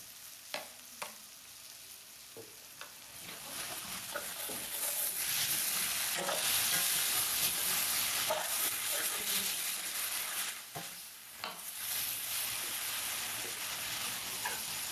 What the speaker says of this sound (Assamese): এতিয়া আদা নহৰু বটাটো দি দিওঁ অলপমান